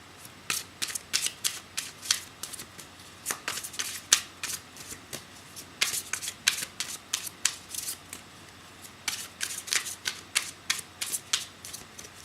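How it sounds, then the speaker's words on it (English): Tarot cards are shuffled by hand in quick crisp riffles. Dense flurries of snapping clicks repeat in bursts, close up, with no talking. "so you can see the shuffling and cards that fall out"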